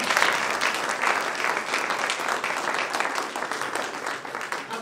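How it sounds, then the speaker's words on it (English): An audience at a Stamp Out Hunger food drive kick-off event breaks into loud, sustained applause, a dense wash of clapping that continues steadily for several seconds. "Can I get an applause for that?"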